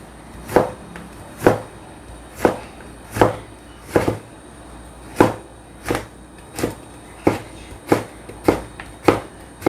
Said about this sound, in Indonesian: Ini dipotong kecil-kecil teman-teman,